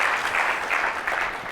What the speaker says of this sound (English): Let's hear a round of applause for the sound, camera, and tech guys.